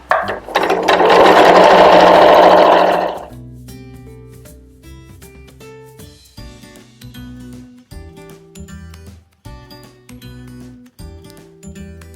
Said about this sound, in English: I want to secure it again with a back stitch, and I'm going to sew over my stitch.